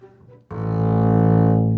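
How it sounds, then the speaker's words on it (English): A bowed string instrument sounds a single sustained note. After a brief quiet start, the bow bites and a rich, harmonic tone swells and holds steady, close and loud. "So basically what happens is that you bow the string"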